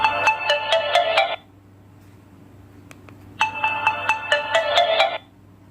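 A Maxx Turbo T4 mobile phone plays its ringtone, two bright, chiming bursts of rapid repeated tones separated by a short quiet gap, loud and close with no talk.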